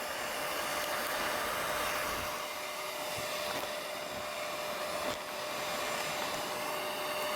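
Revere projector motor running in rewind, a steady loud broadband whir with a constant high hum, continuous and close for the whole stretch with faint clicks of the reels.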